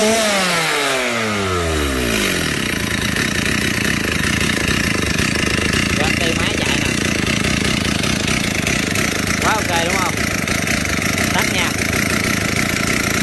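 A Stihl 038 Magnum chainsaw engine revs up and then runs continuously, loud and close, with a rough buzzing drone throughout.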